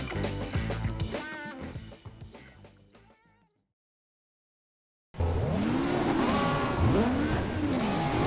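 A touring race car in the GTR2 racing game, at Gold Coast Indy in the 1995 Australian Super Touring Championship, revs through rapid gear changes, falls silent for two seconds, then roars back loud with repeated rising engine sweeps.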